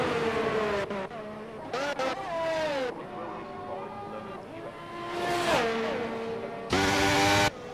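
A race car on a hot lap at Qatar in a sim racing game, its engine loud and close, rising through the gears with repeated upshifts and revving pitch sweeps. A commentator talks over it.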